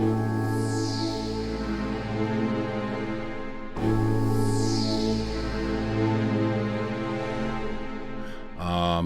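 A dark, eerie synthesizer sequence with droning low tones and sweeping high textures, repeating once before ending in a brief buzzy burst.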